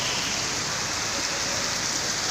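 Steady, unbroken rainfall in Mangaluru makes a dense, even hiss that stays at the same level throughout, with no voices or other sounds standing out.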